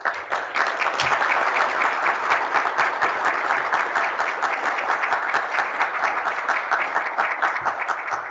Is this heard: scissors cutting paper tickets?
no